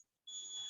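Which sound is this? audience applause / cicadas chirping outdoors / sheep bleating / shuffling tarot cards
cicadas chirping outdoors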